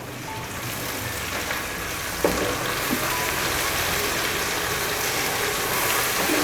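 Garlic ginger paste sizzles in hot frying masala for a dhaba-style mash dal, a steady crackling hiss with a few soft stirring knocks and no one talking.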